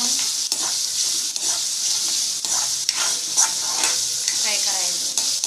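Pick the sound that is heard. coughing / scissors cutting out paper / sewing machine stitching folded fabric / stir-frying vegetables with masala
stir-frying vegetables with masala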